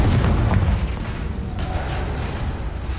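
A Confringo blasting spell exploding in a Harry Potter video game, a loud booming burst with rumbling low-end debris that sustains as a dense roar throughout.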